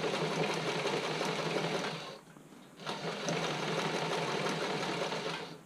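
A sewing machine stitching bra fabric for a Cashmerette Willowdale bra fitting sample, a close, continuous whirring run that briefly stops, then starts again and carries on steadily.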